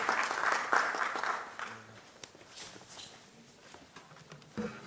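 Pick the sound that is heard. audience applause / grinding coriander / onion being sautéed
audience applause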